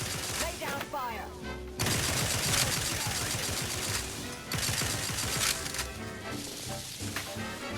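Heavy bursts of rapid automatic gunfire in the video game The Outer Worlds 2, loud and sustained in long stretches with brief gaps, alongside in-game voices.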